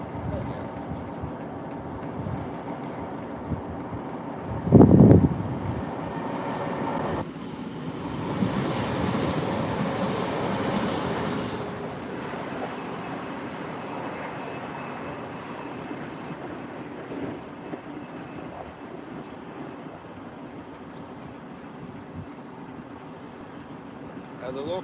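A passenger train passes on the line to Blackpool with a long, broad rumble that builds and fades, alongside a low engine drone and occasional thumps as people talk nearby.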